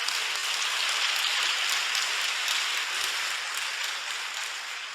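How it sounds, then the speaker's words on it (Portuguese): Church congregation applauding, a steady broadband wash of many hands clapping that holds at an even level throughout and fades slightly toward the end, with no voices standing out. "Gostaria que a igreja aplaudisse"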